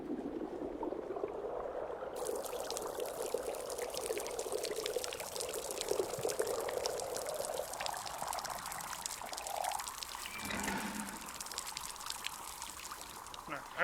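Liquid poured out in the video game Wanderstop, a steady trickling pour running across the clip with a brief gurgle near the end, moderately loud against faint background sound.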